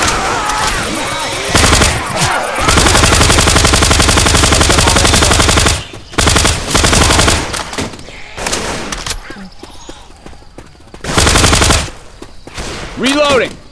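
Sustained bursts of automatic fire from a silenced HK G36A3 rifle in a Left 4 Dead 2 mod, loud and close, in long continuous strings broken by short pauses and reload clicks.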